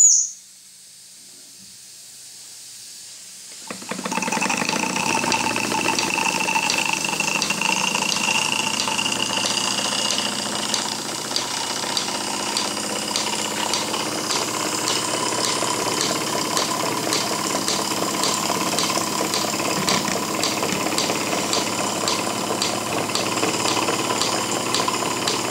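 A Jensen 5 model steam engine starts after a short quiet pause and runs on continuously, its rapid chuffing mixed with a steady hiss of steam from the lifting safety valve, loud and close throughout.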